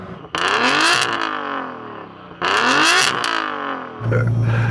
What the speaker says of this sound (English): Go on, Yanni, rev up your car.